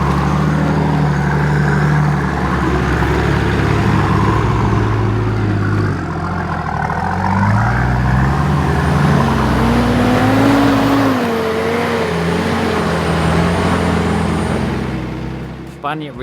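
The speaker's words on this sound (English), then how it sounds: "Bunyip Ridge track was a nice little drive, but pretty much the only obstacles on it were muddy ruts" A Nissan Patrol 4WD grinds through muddy ruts on a bush track in Bunyip State Park, its engine droning loud and close, revving up and easing off through the ruts with steady road noise underneath.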